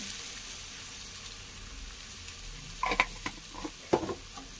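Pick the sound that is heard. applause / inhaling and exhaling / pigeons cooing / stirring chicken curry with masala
stirring chicken curry with masala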